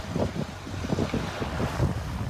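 Sailboat motoring with its sails lowered off the lee coast of Guadeloupe, faint steady engine drone mixed with gusty wind buffeting the microphone and water wash, no voices.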